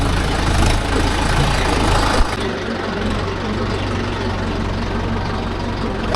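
A Mahindra Yuvo Tech Plus 585 DI 4WD tractor engine runs loudly and close by on a farm, a steady low rumbling drone with a brief change in tone partway through.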